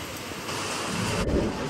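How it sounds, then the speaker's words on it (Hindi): Hail falls hard during a thunderstorm on the road to Nainital in Uttarakhand, making a dense, loud, unbroken roar of pelting with no pauses. "ओले गिरने शुरू हो गए बहुत तेजी से।"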